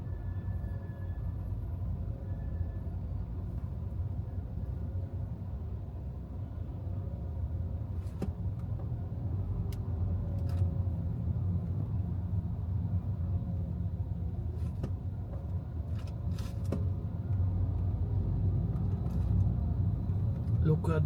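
A car creeps slowly through congested Riyadh traffic, its steady low engine and road rumble filling the scene at close range, with occasional faint clicks and higher tones over the constant drone.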